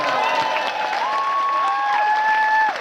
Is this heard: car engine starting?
no